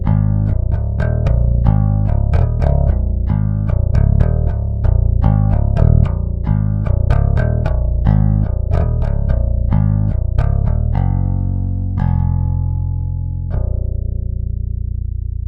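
A bass guitar from a sample library plays a picked djentcore-style riff through a clean DI signal, with loud, solid low-end notes in a fast, choppy rhythm that ends on two sustained, ringing notes.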